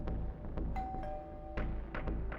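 A doorbell rings in a dramatized sound effect, several bright chime tones sounding in quick succession over a low background hum, fairly faint.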